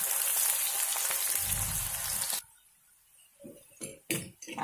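Chopped onion frying in a pan toward brown, a dense steady sizzle for about two seconds, then a near-silent gap broken by a few short clinks and stirring scrapes.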